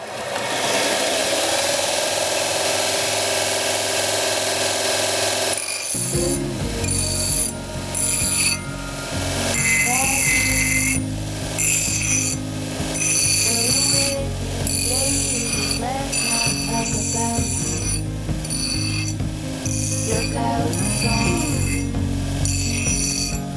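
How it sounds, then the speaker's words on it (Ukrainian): A compact universal bench grinder sharpens a small metal workpiece, a harsh grinding rasp with repeated bursts and pauses as the piece is pressed to the wheel, loud over a steady motor hum. "давайте попробуємо попрацювати з невеличкою заготовкою, подивимося, як себе точило веде"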